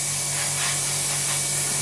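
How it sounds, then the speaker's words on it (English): Gloss acrylic paint sprayed from an airbrush onto a B-24 bomber scale model, a steady close hiss of compressed air and atomised paint held without a break. "Spray this down the spine."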